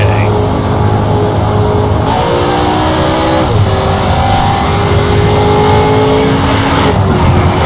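A race car runs a lap in Need for Speed Shift, its engine roaring loudly and steadily with rising and falling revs through gear changes, close and continuous, with some faint talk now and then.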